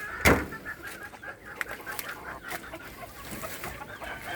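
Chickens clucking nearby, with one loud squawk at the start followed by softer scattered clucks against a quiet outdoor background.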